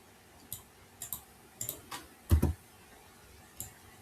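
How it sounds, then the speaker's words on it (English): Sparse clicks of someone typing on a computer keyboard, close by, a few isolated keystrokes and a quick cluster in between pauses. "I will start typing here"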